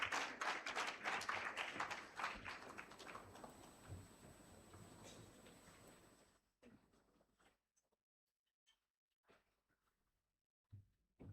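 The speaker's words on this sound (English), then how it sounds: "Please clap for Ludfin as she comes now." Applause from a health summit audience welcoming a presenter, a dense burst of many hands clapping for about six seconds before it thins out to a few scattered claps and near silence.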